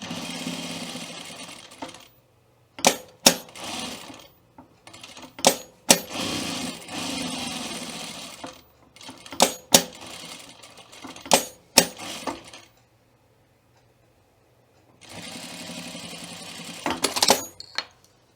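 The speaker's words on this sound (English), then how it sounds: "we'll top stitch the flap" Sewing machine top stitching the flap of a welt pocket, running in several short bursts of varied length separated by pauses, close and alone, with a longer quiet gap before a final run.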